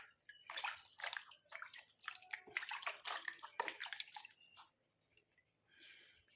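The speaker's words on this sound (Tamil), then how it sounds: "தண்ணி மாற்றி எடுத்துகிட்டு வந்து நான் ஃபேஸை உங்களுக்கு முன்னாடியே வாஷ் பண்ணிக்கிறேன்" Close splashing of water in quick bursts, hands scooping and slapping water, then dripping and trickling as it tapers off. No talking.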